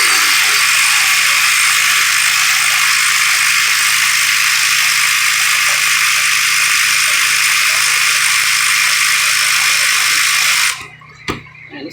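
A small Harbor Freight ratchet spins steadily to back bolts out of a 1998 Jeep Cherokee during water pump removal, a loud, close, continuous rapid clicking whir that stops abruptly near the end, followed by a couple of faint clinks.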